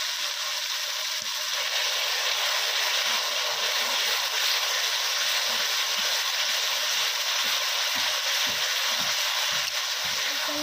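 Tomato with ginger garlic paste fries in a pan, a constant dense hiss of sizzling oil with faint ticking and crackles, steady and unbroken.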